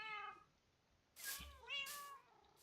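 A cat in the video game Minecraft Bedrock Edition meows several times, short and close, with distinct pauses between the calls and no talking over them.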